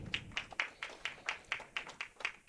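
Audience clapping for a speaker at a youth leadership event, a sparse, faint run of about a dozen individual claps in an uneven rhythm, quiet and somewhat distant with no talk over it.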